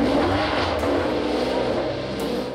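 An Italian Ferrari sports car, bought for 300,000 euros, sends out a loud, sustained engine roar, close and steady with no talk over it.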